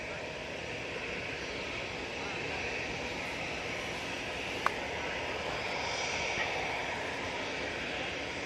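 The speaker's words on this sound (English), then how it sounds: "We do have the Eurowings coming in from Stuttgart using their A320." A Eurowings Airbus A320 from Stuttgart on final approach at Manchester gives a steady, distant jet roar with a broad, even rumble that holds throughout, with no clear voices.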